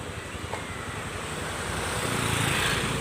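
A motorcycle goes by on a nearby road, its engine drone faint at first and then swelling louder toward the end.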